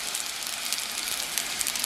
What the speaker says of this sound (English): a drizzle of some soy sauce